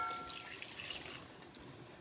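Water pours into a pot of blueberries and sugar, a faint, close splashing and trickle with a single sharp drip or clink near the end.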